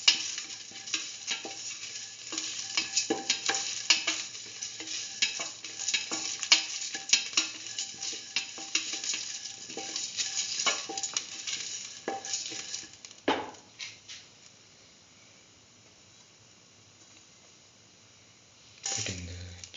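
A mustard chicken mixture for chicken rice in coconut milk is stirred as it sizzles in a pan, with close, busy scraping and spoon strokes over a steady fry for about thirteen seconds before the sound quiets down, then a brief clatter at the end.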